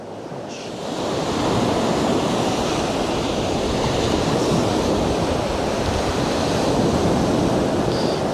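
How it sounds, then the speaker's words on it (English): Coastal water surging and breaking around rocks, a loud continuous roar of surf close by, mixed with wind buffeting the microphone, no voices. "that water moves nicely around these rocks"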